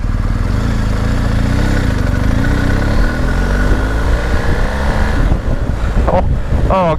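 A 2022 BMW R 1250 GS motorcycle accelerating on the road, its loud close engine drone rising and shifting pitch under heavy wind buffeting, with a short burst of revving near the end.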